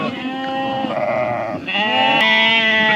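Weaning-age lambs and ewes in good condition bleating close by, several overlapping long wavering calls one after another, loud and clear outdoors.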